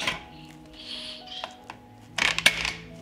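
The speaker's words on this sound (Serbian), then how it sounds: "Zatvorit ću ekspres lonac" A metal pressure cooker lid is closed. It makes faint handling noises, then a quick cluster of sharp metallic clanks and rattles close by, in a quiet room.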